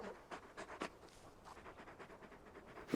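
Torgal, a large dog in the video game Final Fantasy XVI, pants softly in quick, rhythmic breaths, faint and close, with a quiet ambient background.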